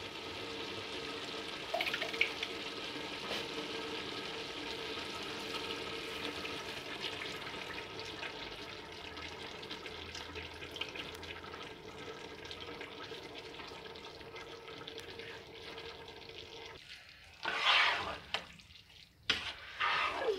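Yogurt poured into beef kachnar frying in a pot, a constant loud watery sizzle that softens and breaks into a few bursts of stirring and spluttering toward the end, without speech.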